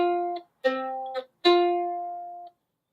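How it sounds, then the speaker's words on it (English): Two sustained tones a perfect fourth apart, sounded one after the other and then together, each note ringing clearly and fading away in a quiet room with no talking. "So a perfect fourth will sound like this."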